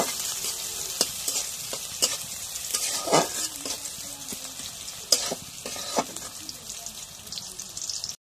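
Chopped onion sizzles in hot oil in a pan, a close crackling fry broken by sharp stirring clicks and scrapes of a utensil, with no one speaking.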